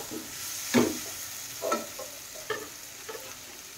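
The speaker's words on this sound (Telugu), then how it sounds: "ఆనియన్స్ ఉప్పు కారం బాగా ఫ్రై అయ్యాయి." Onions with salt and chili powder frying in a pan for a village-style chicken liver curry, a close steady sizzle broken by several stirring scrapes.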